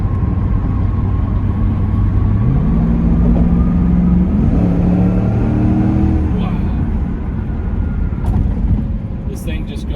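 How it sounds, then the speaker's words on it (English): A 1999 Pontiac Firebird Trans Am cruising on the road at around 70 mph, with loud steady engine drone and stepped rising pitch as it runs through gears, road and wind noise throughout, and someone speaking over it. "this thing just goes 70 mile an hour on the road"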